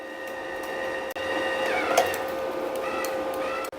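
Wire feed motor of a Pro Euro 150 gasless MIG welder runs with a steady whine for a few seconds, briefly interrupted twice, close and alone.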